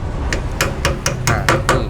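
A hammer knocks a lead weight onto a car wheel rim mounted on a 90BS wheel balancer: about eight quick metallic taps in a steady rhythm, close and loud, with no speech.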